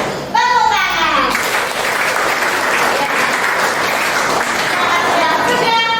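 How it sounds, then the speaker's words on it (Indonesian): A classroom of children and adults bursts into sustained, loud clapping, steady and dense for several seconds after a brief spoken prompt. "Tepuk tangan."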